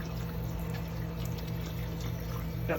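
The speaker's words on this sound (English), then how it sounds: "And how long do you have to run the water?" Water runs continuously into a boat bilge during cleaning, a steady close pouring trickle over a constant low engine-like hum, with no voices.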